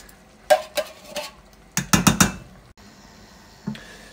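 A utensil scoops thick coconut milk out of a can for a curry base, giving a handful of close, sharp knocks and scrapes in two quick clusters. Quiet pauses separate the clusters, and no one talks.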